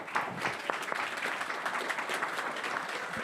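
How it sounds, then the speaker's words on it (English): Applause from a startup event audience welcoming a speaker, a dense, even patter of many people clapping, moderately loud and continuous throughout the short stretch. "So please give him a big warm of applause."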